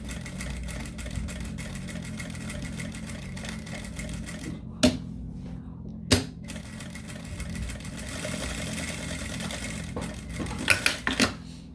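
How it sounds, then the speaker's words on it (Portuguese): A sewing machine stitching a seam on a zippered accordion fabric wallet, a steady close mechanical whirr with a few sharp clicks and knocks as it pauses and restarts. "Eu gosto de passar uma costura aqui nessa outra parte também"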